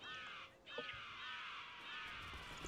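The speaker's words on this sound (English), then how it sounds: "All I hear is birds." Several harsh caws ring out in quick succession in the video game Dino D-Day, a flock of crows calling close by over a faint steady background.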